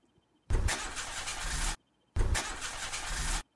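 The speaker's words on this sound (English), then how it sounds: "Hold on, I'll try the engine." A car engine in the horror game Mermaid Swamp cranks twice without catching, each attempt a grinding starter whir of about a second, separated by silence.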